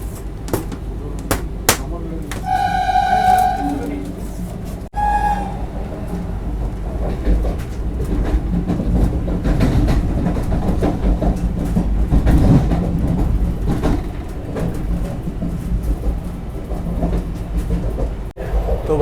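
Vande Bharat Express train pulling out of Kasara railway station on the Mumbai–Jalna route toward the Kasara ghat section, a steady loud rumble with rhythmic wheel clatter and a few sharp metallic clicks near the start.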